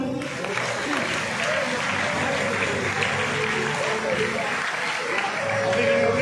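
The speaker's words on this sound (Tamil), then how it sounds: "கரவொலி தொடர்கிறது." Audience at an awareness programme attended by a minister gives the students sustained applause, a dense, even roll of clapping that holds steady throughout, with voices murmuring beneath it.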